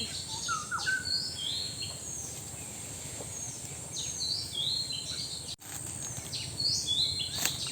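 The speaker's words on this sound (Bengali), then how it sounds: "জঙ্গলে পাখির কিচিরমিচির শব্দ কতই না ভালো লাগতেছে।" Birds chirp in a jungle with bright, repeated calls at moderate distance over a steady hum of insects, and no one talks.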